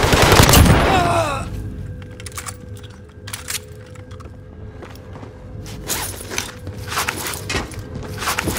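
Hostile gunfire in the shooter game Call of Duty: Warzone, Season 3 Operation Monarch: a loud burst opens the clip, then scattered cracks and shots ring out at a distance over ambient game sound.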